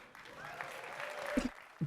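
Applause from a group, a steady patter of clapping lasting a couple of seconds, fairly faint and a bit distant, with a few louder thumps near the end.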